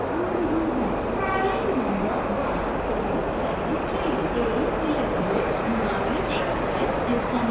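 A WAP-7 electric locomotive at the head of its train at a New Delhi station platform, giving a steady, dense rumble with a faint high tone, continuous throughout the clip.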